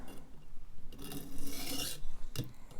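A serrated knife blade is drawn across a sharpener at a low angle, producing short rasping scrapes and rubbing strokes at close range, with a sharper scrape near the end.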